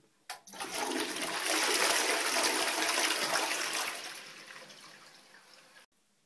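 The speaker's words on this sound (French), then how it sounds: "nous allons pouvoir tirer la chasse d'eau" A toilet flushes once, a sudden rush of water swelling and then draining away before cutting off abruptly.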